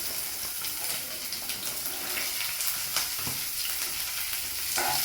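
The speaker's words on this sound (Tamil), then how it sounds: "அதில் வெங்காயத்தை நறுக்கி வச்ச வெங்காயத்தை போட்டுக்கணும்." Chopped onions frying in a pan with a constant crackling sizzle, occasional stirring clatter and faint background noise throughout.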